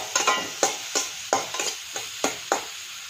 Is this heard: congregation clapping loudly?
no